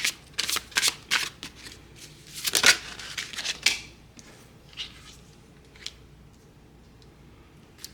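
Tarot cards are shuffled by hand in quick riffling bursts, then slower single flicks and taps as cards are drawn and laid down, close and crisp in a quiet room with no talk.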